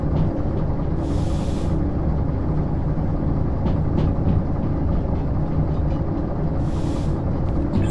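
Steady locomotive engine rumble from the train game Derail Valley, a continuous low drone with faint rail clatter and two short hissing bursts, no voices.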